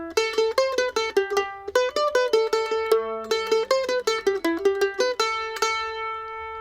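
Acoustic guitar picking out the opening line of the fiddle tune Old Ebenezer Scrooge, a bright, steady run of single plucked notes with ringing open strings, played alone at a moderate, even tempo.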